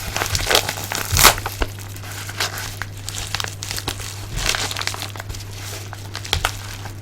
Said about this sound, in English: Shredding the envelope will be quite a feat for me to achieve